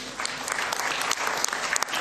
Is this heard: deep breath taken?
no